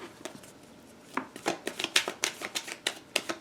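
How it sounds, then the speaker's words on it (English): Tarot cards are cut and then shuffled by hand at close range, a brief quiet pause followed by a quick run of crisp, rhythmic riffling flicks, with no talking. "Cut the cards and then shuffle"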